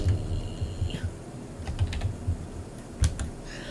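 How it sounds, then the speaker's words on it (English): Computer keyboard typing, a short run of quick, uneven keystrokes at close range with no voices. "I'll just type it in here."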